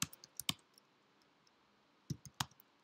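Keys on a computer keyboard clatter in two short bursts of quick, crisp clicks separated by a pause, close and fairly quiet with no talking.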